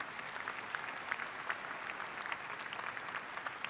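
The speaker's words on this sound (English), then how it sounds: "Let's give them a round of applause, too." Audience applause fills a commencement ceremony hall, a dense, steady wash of clapping that holds at an even level throughout, with no voices over it.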